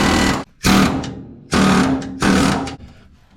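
A pneumatic air tool chatters in loud, close bursts while working apart a rusted panel on a 1978 Chevrolet K5 Blazer under rust repair, three rapid hammering runs separated by short pauses.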